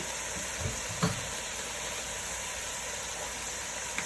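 Ground meat browning in a frying pan for lasagna gives a steady, moderate sizzle, with a soft clunk or two of stirring and no voices.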